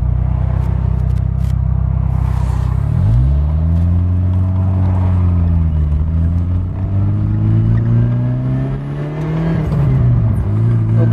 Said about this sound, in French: Le moteur ça chante vraiment dans les tours.